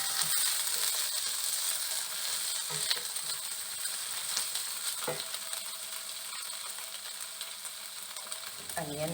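Carrots and chicken sautéing in a pan, a constant bright sizzle with intermittent scraping and clinking from stirring, close and steady across the whole stretch.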